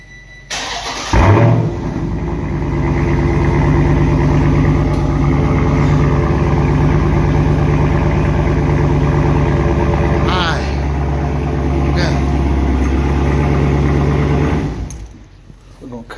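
A Hellcat crate engine cranks over and fires at once, settling into a loud, steady, rumbling idle that holds for over ten seconds before being shut off, with brief voices near the end.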